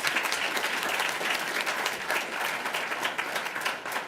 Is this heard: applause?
yes